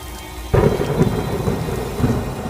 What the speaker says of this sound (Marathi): बाहेर आता धो-धो पाऊस सुरू झाला होता.